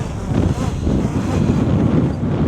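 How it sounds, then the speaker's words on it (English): Strong gusty wind roaring across a small DJI drone flying in a storm, a loud, continuous rumbling buffet of wind noise close to the microphone. "the gusts really are coming in"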